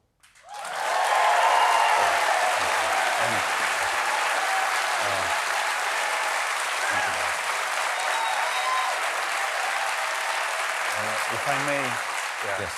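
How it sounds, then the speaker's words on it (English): Sustained audience applause fills a large hall after a speech by Ukraine's foreign minister, starting abruptly and holding steady and loud, with a few voices heard faintly underneath. "thank you for this round of applause"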